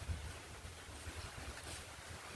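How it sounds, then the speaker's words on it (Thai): Strong wind gusts high in the treetops just before rain arrives, a steady broadband roar with low rumbling buffeting against the microphone throughout, no voices. "ลมบน ลมบนมันแรง"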